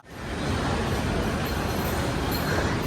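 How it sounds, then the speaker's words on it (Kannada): A Delhi Metro Airport Express Line train runs with a steady, full rumble of wheels and carriage noise that swells in at the start and then holds loud and even, with no talk. "Delhi metro airport express line."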